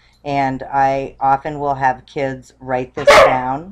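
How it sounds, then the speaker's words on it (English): A dog barks indoors, one loud sharp burst near the end that rises above a person's steady nearby talk. "Excuse the dog."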